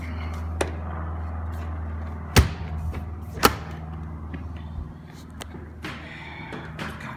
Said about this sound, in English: let's close this door here